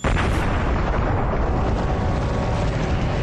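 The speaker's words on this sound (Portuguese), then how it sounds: "nosso universo começou há uns 14 bilhões de anos com uma explosão muito violenta" A Big Bang explosion sound effect: a sustained, dense roaring rumble that fills the whole stretch at steady loudness after a sudden onset, heard alone with no voices.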